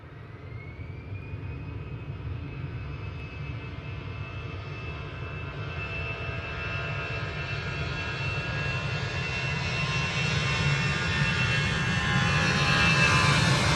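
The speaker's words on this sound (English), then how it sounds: "this is jets off to Berlin using their A320" An Airbus A320 jet airliner at Manchester Airport gives a steady, loud engine roar with a rising whine, growing stronger as it nears, with no voices over it.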